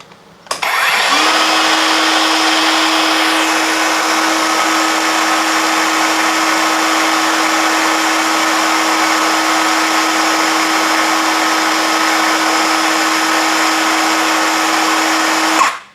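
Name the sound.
cordless brushless circular saw Dongcheng DCM running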